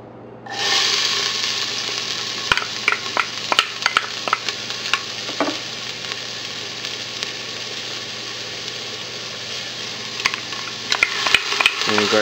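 Onion, garlic and ginger sizzle and fry in hot cooking oil for beef pares, a steady loud crackle with occasional sharp pops and stirring scrapes throughout.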